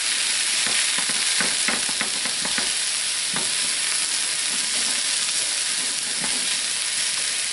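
Onions frying in oil in a pan for a leftover rib roast dinner, a steady broadband sizzle with crackling oil splatter and occasional stirring scrapes, close and continuous without talk.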